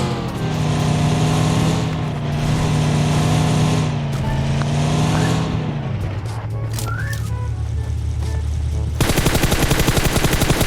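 In a shooting video game, rapid gunfire and vehicle engine noise fill the scene: a loud continuous engine drone with dense shots for about six seconds, then quieter rumbling, and a sharp burst of fast fire near the end.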